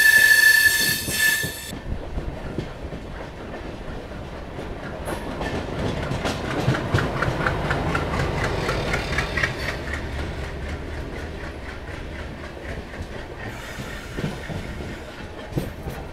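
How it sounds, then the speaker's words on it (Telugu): The Satavahana superfast train runs through curves between Kacheguda and Secunderabad, its wheels squealing under a steady rolling rumble and rhythmic clickety-clack. The sound is heard close from onboard, after a brief sharp tone at the start. "దీనివల్లే మన ట్రైన్ స్పీడ్ మెయింటైన్ చేయలేకపోతున్నది."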